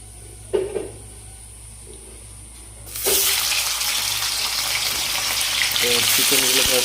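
Marinated chicken pieces for a chicken roast fry in a pan, a steady broadband sizzle that swells loudly after a quieter start, with a few faint knocks and clinks early on.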